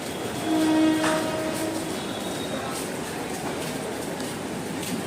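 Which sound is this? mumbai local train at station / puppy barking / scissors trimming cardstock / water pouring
mumbai local train at station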